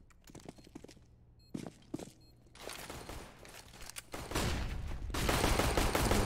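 Gunfire in a Counter-Strike esports match: scattered single shots and short bursts early on, then thick, sustained rapid fire that builds louder toward the end, with no talk over it.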